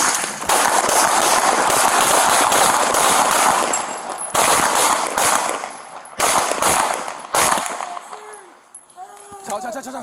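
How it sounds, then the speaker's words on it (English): Police gunfire at an armed man in a park: a rapid burst of loud, cracking shots in quick succession near the start, with officers shouting over and after the volley. "Hey, we got shots fired."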